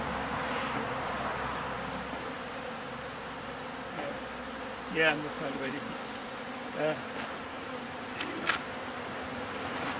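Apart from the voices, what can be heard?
honey bees buzzing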